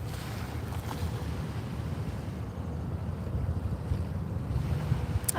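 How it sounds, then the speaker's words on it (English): Ocean waves wash onto a shore on a gray day in a continuous rolling rumble, with wind buffeting the microphone throughout and no voices. "Can you hear the waves?"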